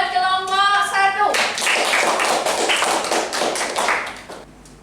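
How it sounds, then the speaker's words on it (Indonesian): A classroom group of students claps for a presenting group, a dense burst of hand claps rising after a brief tone and fading toward the end, with a voice briefly underneath. "tepuk tangan buat kelompok 1"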